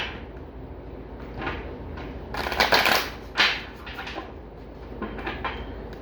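A deck of tarot cards shuffled by hand in a quiet room, giving a few bursts of riffling and flapping, with the loudest run in the middle of the stretch.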